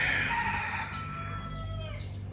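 Chickens and chicks clucking on a farm in the Philippines, with a steady mix of soft clucks and chirps nearby and a low rumble underneath, no talking.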